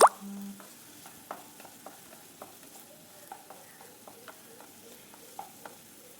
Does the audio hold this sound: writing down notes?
no